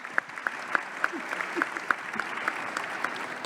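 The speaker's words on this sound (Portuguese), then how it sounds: "Pode aplaudir" Audience applause at a book fair panel honoring Carolina Maria de Jesus, moderate crowd clapping with a few sharp, distinct claps standing out rhythmically over the steady patter, with faint voices underneath.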